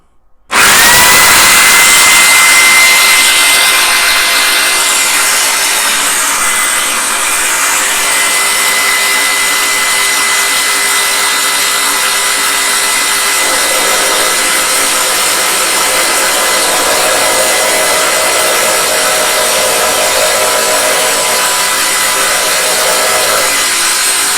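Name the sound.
drilling out a part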